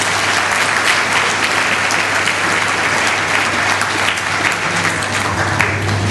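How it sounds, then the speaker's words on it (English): Loud, sustained applause from a large audience at an awards dinner in London, a thick continuous wash of clapping that holds steady for six seconds without any talk. "Please, a round of applause for all our nominees."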